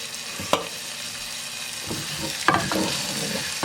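Garlic sizzles steadily in a hot pan for chicken paprikash, a close, even frying hiss broken by a few sharp stirring clicks and scrapes, with no voices.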